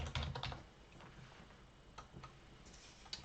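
Keys clatter on a computer keyboard while a file name is typed, giving quick irregular taps in short bursts, quiet and close, with no speech.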